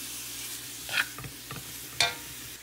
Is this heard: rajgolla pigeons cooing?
no